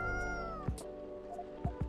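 A cat meows in the video game Coffee Talk 2, giving a few short, close meows over a soft, steady musical background, with no talking.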